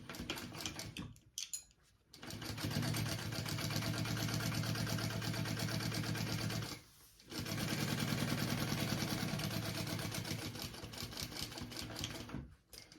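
A sewing machine stitches a bag in two long steady runs of fast, even mechanical whirring, each ending in a brief pause, close and clear with no talking.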